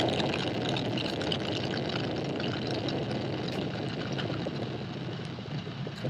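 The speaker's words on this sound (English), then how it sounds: "All 4 RS-25 engines on the core stage and 2 solid rocket boosters now propelling the vehicle at 128 miles per hour" Artemis I rocket lifting off on four RS-25 core-stage engines and two solid rocket boosters, a continuous broadband roar with a crackling, rushing texture, steady and distant throughout.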